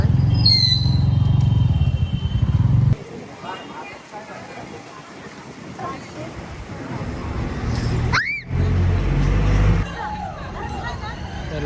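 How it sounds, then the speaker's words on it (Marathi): A vehicle engine idles with a loud, close rumble while parking at Ranjangaon, then cuts off. Murmuring voices and outdoor crowd noise follow, and another engine rumble with a brief rising horn-like tone comes later. "गाडी इथंच लावावं लागेल"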